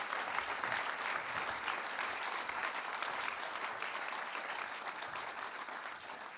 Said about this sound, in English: Let's give a round of applause for Alfie and all these incredible heroes.